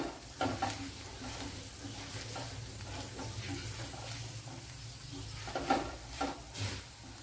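Spices sizzle gently in a pan for kathirikka curry while a spoon stirs them now and then, a soft close frying crackle under occasional scraping and tapping.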